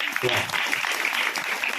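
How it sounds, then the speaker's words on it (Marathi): Applause from an audience at a devotional Marathi sermon gathering for the children present: a dense, steady patter of many hands clapping, moderately loud and sustained, with some voices mixed in. "आमच्या बाल गोपालांकरता एकदा टाळ्या होऊन जाऊ द्या"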